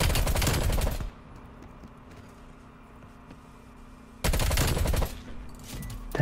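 Automatic QBZ-83 rifle fire in Call of Duty Black Ops Cold War, a loud sustained burst at the start, a quiet gap, then another long dense burst near the end, close and unaccompanied by talk.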